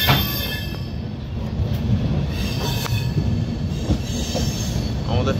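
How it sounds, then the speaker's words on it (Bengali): The 12495 Bikaner-Kolkata Pratap Superfast rolls through Merta Road Junction in Rajasthan, heard from inside a coach as a loud steady rumble of wheels on rails with occasional metallic squeals and clacks. "আমাদের ট্রেন এখন স্কিপ করছে মেটা রোড জাংশন"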